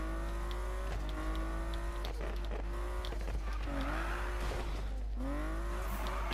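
A car drifts in Need for Speed 2015 at night, its tires squealing in long sweeping arcs over a steady engine drone, with several skids rising and falling in turn.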